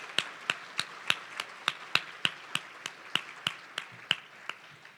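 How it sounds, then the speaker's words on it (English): An audience at an education summit claps for the day's speakers: sharp, evenly spaced claps, about fifteen in a steady rhythm, clear and fairly close, with no talking. "please join me in giving one more round of applause to today's speakers"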